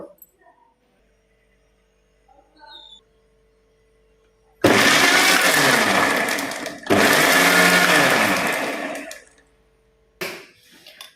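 A kitchen mixer grinder pulses eggs with pepper for an omelette, giving two loud whirring bursts of a few seconds each with a short gap between, then a brief final blip after quiet.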